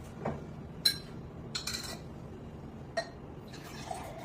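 Water, measured at 90 ml, is poured into a bowl of vanilla cake mix, making quiet splashes and trickles broken by a few sharp clinks of glass or utensils.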